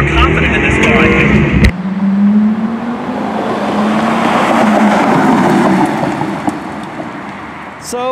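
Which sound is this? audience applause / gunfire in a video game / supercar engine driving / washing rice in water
supercar engine driving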